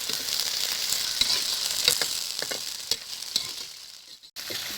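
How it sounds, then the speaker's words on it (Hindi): Chicken fries in a pan with sautéing onions, giving a continuous bright sizzle punctuated by several sharp stirring clicks and scrapes near the pan. "और चिकन को इसमें फ्राई करेंगे।"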